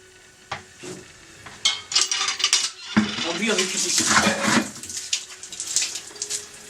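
Dishes, pots and utensils clatter and clink during washing up in a home kitchen, with sharp metallic knocks and scrapes coming in bursts over running activity, fairly close and loud.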